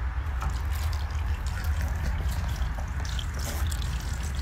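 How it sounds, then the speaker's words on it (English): Water dripping and trickling from a rain barrel outdoors, a steady wet patter over low background rumble with no talk. "You see here, water started to drip now."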